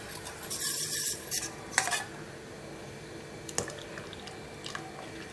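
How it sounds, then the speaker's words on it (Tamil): Ragi porridge stirred in a pot, with soft scraping and squishing strokes and a few sharp clinks of the utensil against metal, close and fairly quiet. "கைவிடாமல் கிளறணும்"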